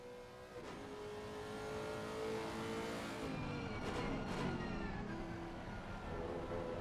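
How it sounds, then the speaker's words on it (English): A GT3 race car in a sim racing game at Kyalami drops gears with a steady, loud engine drone, its pitch stepping up as it downshifts, with a brief rising whoosh of passing cars midway. "Downshifting"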